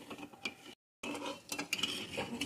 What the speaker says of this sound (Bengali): এখন চিনিটাকে একটু নেড়ে নেব